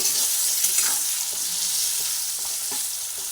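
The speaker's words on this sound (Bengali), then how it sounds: "কাঁকড়গুলোকে তেলের মধ্যে দিয়ে আবার ভেজে নেব" Pieces of pointed gourd frying in hot oil, a loud, even crackling sizzle with a few soft stirring scrapes, close up and without speech.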